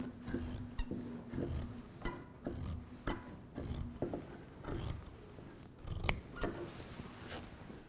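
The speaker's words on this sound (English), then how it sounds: "I'm going to use a pair of scissors and cut it right down the middle" Sharp scissors snip through carbon fiber cloth in a series of crisp, evenly spaced cuts, close and fairly quiet, with soft rustling between strokes.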